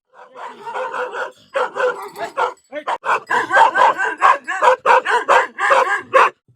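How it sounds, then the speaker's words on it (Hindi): Dogs at a mountain shepherd camp bark in a rapid run of loud, close yaps and bow-wows, coming in short bursts, then a fast steady series. "ये कुत्ते हैं"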